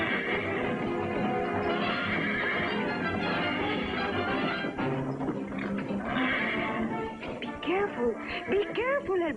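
Horses neigh and whinny repeatedly in a fight between a black stallion and a white horse, with hoof clatter and scuffling throughout, loud and close, as music plays beneath.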